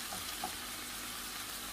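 Shrimp and mussels cooking in a pan give a steady, even sizzle that runs the whole time at a moderate level, with no voices over it.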